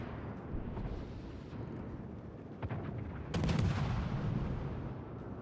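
Warship artillery fires in the naval battle game World of Warships: Legends, with booming salvos and rumbling impacts under a constant battle din. A sharper, louder blast lands partway through.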